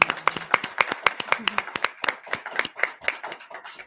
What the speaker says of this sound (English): Can we get a round of applause for both of our candidates,